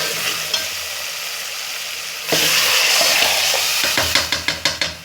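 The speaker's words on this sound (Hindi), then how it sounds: "मसाले की मैंने अच्छी तरह से भुनाई कर ली है।" Spices frying in a pan for a masoor and moong dal: a moderate sizzle jumps to a louder, hissing burst midway, then a quick series of spoon taps and scrapes against the pan closes it out.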